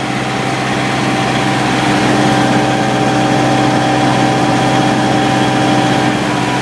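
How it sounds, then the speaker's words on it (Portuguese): Refrigeration unit on a truck trailer runs steadily while pre-cooling the cargo box, a constant loud mechanical drone with a low engine hum and steady whine, unchanged from start to finish and with no voices. "Já liguei a carreta aqui para refrigerar por dentro aqui, para tentar pré-refrigerada."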